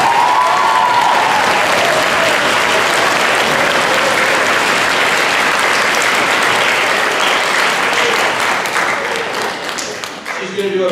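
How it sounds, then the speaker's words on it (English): Audience applause at an eighth-grade spring school concert, a dense, steady roar of clapping lasting throughout and thinning slightly near the end, with a voice briefly audible over it at the start. "let's give her a hand"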